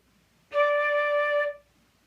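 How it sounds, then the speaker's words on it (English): A single clear flute note sounds for about a second, steady and pure, then stops in a quiet room. "when it splits, it makes a sound like this"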